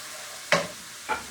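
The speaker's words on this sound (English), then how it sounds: "So give it a quick stir." Minced garlic and chopped ginger stirred in a hot pan: two or three short scraping strokes over a soft constant sizzle, close up, with no talking.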